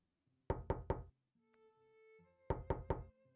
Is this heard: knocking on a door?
yes